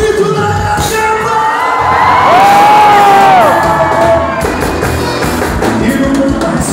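Concert crowd at a sertanejo show roars with sustained shouting and cheering, loud and continuous, with whoops and a rising collective yell in the middle.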